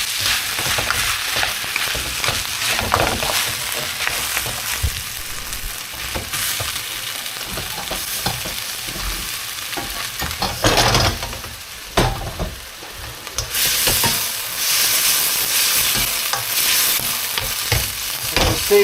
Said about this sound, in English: In goes the bacon into the fried rice.